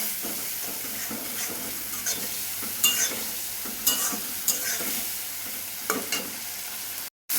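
Ground spices with onion, garlic and ginger stir-fry for black chana masala, a steady close sizzle punctuated by several sharp spoon scrapes against the pan, cutting off briefly near the end.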